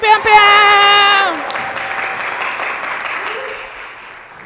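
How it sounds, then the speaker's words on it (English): Audience applause for poet Juan Morales at a poetry summit, opening under a loud voice calling out over it, then settling into steady clapping from the crowd that continues to the end. "please give the big round of applause for Juan Morales"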